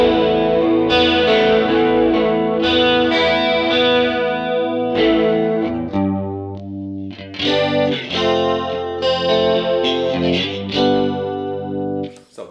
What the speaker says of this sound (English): Delay is already on, or maybe we switch on the chorus.